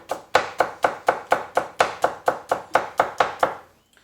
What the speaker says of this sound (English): Just a rough chop is good